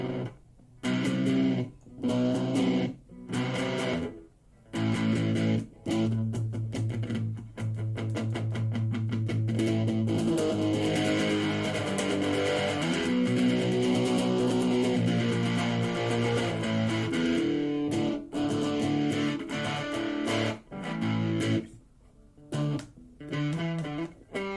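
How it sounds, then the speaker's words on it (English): An electric guitar played through a Phase 45 phaser pedal combined with fuzz, thick and distorted, with a slow sweeping phase whoosh rising and falling beneath sustained chords and choppy strums, loud and continuous. "the phase 45, I mostly use that in conjunction with the fuzz"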